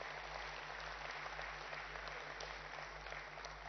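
Steady applause from a summit audience in a large hall, continuous and moderately distant with a low hum underneath, no voices over it.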